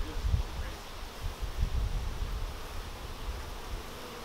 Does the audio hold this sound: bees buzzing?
yes